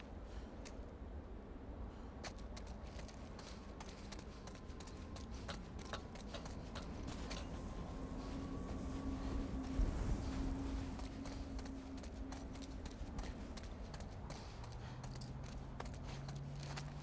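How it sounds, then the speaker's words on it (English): Horse hooves clip-clop in The Last of Us Part I: Left Behind, a faint steady trot behind game ambience and a low hum, with no talk. "I hear the fucking horse behind you."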